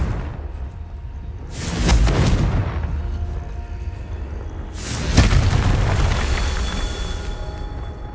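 Two loud booming blasts from the Confringo fire spell in Hogwarts Legacy, each a sudden explosion that rumbles and fades over a few seconds, with no talking.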